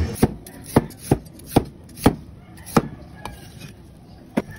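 A knife chops carrots on a cutting board in sharp, distinct knocks, about a dozen at an uneven steady pace, close and clear with no talking.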